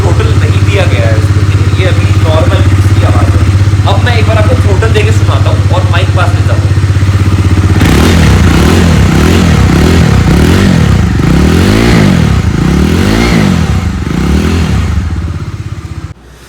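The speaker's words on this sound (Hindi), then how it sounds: "इसका एग्जॉस्ट नोट है वो बहुत अच्छा है। मैं आपको एक बार सुना के दिखाता हूँ।" Close, loud idle of a Bajaj Dominar D250 motorcycle exhaust that breaks into a series of sharp throttle revs, each rising and falling before dropping back, with someone speaking over the idle early on.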